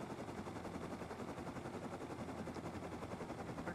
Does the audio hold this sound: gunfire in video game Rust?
yes